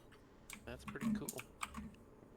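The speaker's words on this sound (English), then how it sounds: "A lot of clacking in my keys." Computer keyboard keys clack in quick irregular bursts during a StarCraft tournament qualifier stream, close and fairly faint, with a voice talking over parts of it.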